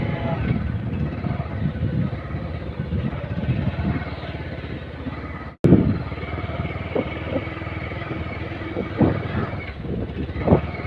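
A motorcycle engine drones steadily while riding through hills, with heavy wind rushing over the microphone and a brief dropout midway.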